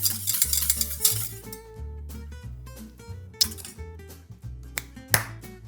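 A whisk beats a dressing of soy sauce, rice vinegar and Japanese rice wine in a bowl, giving a close, steady rhythmic clinking and scraping with bright metallic taps throughout.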